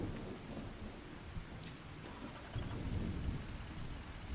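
Rain and thunder in the video game Farming Simulator 25: a steady wash of rainfall over low, rolling rumbles that swell midway, fairly quiet, with no talking.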